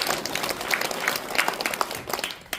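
Audience applause at a Daegu Dalseo-gu local government forum, a dense burst of clapping from a crowd that stays steady for a couple of seconds and then thins out at the end.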